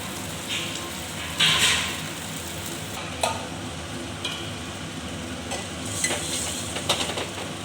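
Small shallots and a sprig of curry leaves hit hot oil in a pan for a horse gram dal, giving a steady close sizzle broken by sharp clicks and scrapes of stirring.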